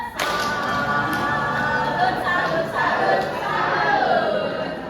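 An audience at a library read-aloud training session performs a rhythmic 'tepuk salut' clap for Ibu Ratni, steady patterned clapping and tapping from a seated crowd in a room, with some murmur underneath.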